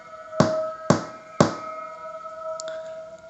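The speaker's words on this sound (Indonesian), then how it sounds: "Suara ketukan itu bukan dari pintu, melainkan dari dalam lemari." Three evenly spaced hollow knocks come from inside a wooden wardrobe, crisp and fairly close, over a faint steady hum, a horror-story sound effect with no voices.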